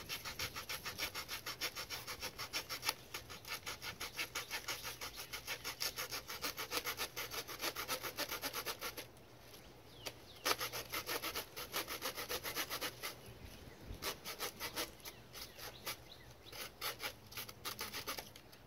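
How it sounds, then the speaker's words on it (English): A hand saw cuts through bamboo in steady back-and-forth strokes, close and loud, pausing briefly about halfway before the rasping strokes resume. "this stuff splinters really easy, which is why I'm using a saw and not a hatchet or an axe or something"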